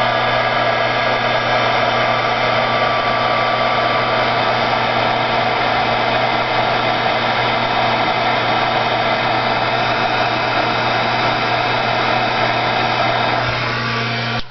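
Loud, steady whirring blow of a heat gun melting powder on a tile for a Christmas gift, an unbroken hum with no talk.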